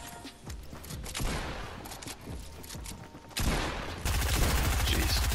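Fortnite gunfire crackles in rapid volleys of repeated shots and bursts, growing denser and louder toward the end as a heavy, continuous barrage takes over.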